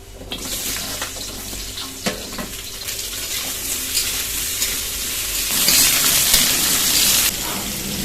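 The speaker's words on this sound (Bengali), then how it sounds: "প্রথমে কাঁচা আমগুলো ভেজে নেব। কড়া গরম হয়ে গেছে, তেল দিয়ে দেবো, আম দিয়ে দেবো" Raw mango pieces fry in hot oil in a heated wok, a loud continuous sizzle with scattered stirring scrapes that surges louder and brighter partway through, heard close with no voices.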